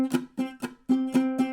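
Ukulele strings strummed with a too-light muting touch, six quick percussive strums in a steady rhythm, each leaving a ringing pitched tone beneath the scratchy attack, close and alone.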